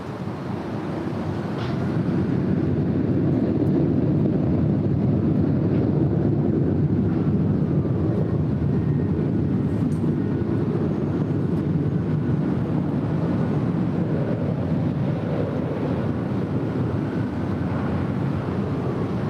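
A Delta Airlines Boeing 737-900ER, bound for Orlando, takes off at LAX with a loud, steady jet roar that builds in the first few seconds and then holds, broad and rumbling, with wind buffeting the microphone.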